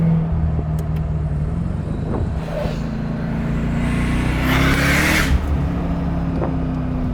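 A Mercedes CLK DTM Cabriolet, a rare manual-shift example, driving on roads in the south of France, its engine droning steadily with rising and falling pitch as it shifts and accelerates, with road and wind noise heard from inside the car.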